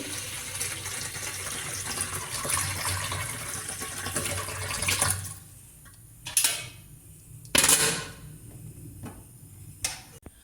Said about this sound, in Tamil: ஸ்டீமரில் கொஞ்சமாக தண்ணியை வச்சு